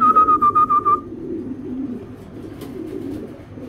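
Racing pigeon of Belgian Red Fox bloodline cooing: a quick run of about seven rhythmic, throaty coos in the first second, then quieter low rumbling murmurs with faint background noise.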